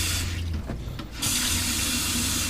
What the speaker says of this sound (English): a nice sink with a little drain, hot and cold running water. Good flow out of there.